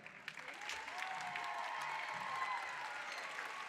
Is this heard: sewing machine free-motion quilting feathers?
no